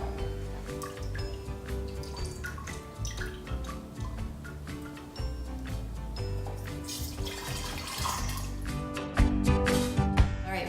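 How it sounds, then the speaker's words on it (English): Hot chicken bone broth being ladled from a pot into glass jars, with repeated liquid pours, drips and splashes over a busy kitchen background, growing louder near the end. "I'm gonna have Javiana ladle the soup out from the broth into the jar."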